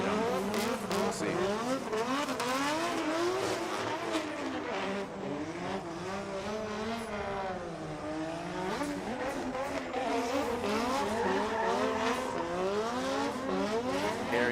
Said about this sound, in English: warming up his tires in that pedal commander burnout box